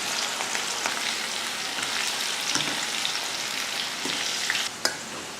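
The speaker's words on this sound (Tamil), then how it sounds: "இப்போ நம்ம பொரிச்சு காட்டுறேன் உங்களுக்கு." Homemade snacks crackle and sizzle steadily in hot oil, a dense close-up frying hiss that runs without a break, with a few sharper pops and a small clatter near the end.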